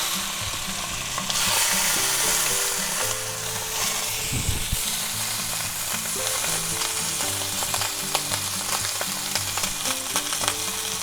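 A thick sous vide chuck roast sears its edges in a hot pan, producing a loud, sustained sizzle with crackling spatters and occasional utensil scrapes throughout, without speech.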